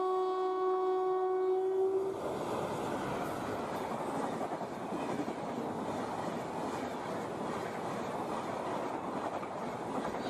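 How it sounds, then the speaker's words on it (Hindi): An Indian Railways locomotive horn sounds for about two seconds, then a high-speed train roars past at around 130 km/h with a steady, dense rumble and clatter that fills the rest of the scene. "ये हुआ ना लोकोमोटिव"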